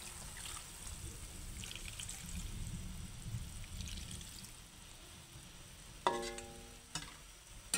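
Coconut milk poured into simmering chicken adobo, a soft trickling and bubbling pour with a faint sizzle underneath, close and gentle, ending with a few sharp clinks from a pot or utensil.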